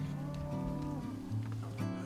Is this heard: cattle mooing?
yes